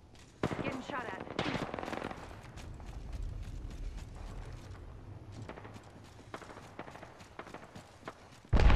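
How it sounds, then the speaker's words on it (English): Gunfire from the Apex Legends battle royale game on PS4, with repeated sharp shots and bursts scattered through the clip, some close and loud, others lighter, amid footsteps and game effects. "Getting shot at."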